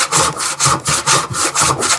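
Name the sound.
hand saw cutting a wide wooden tenon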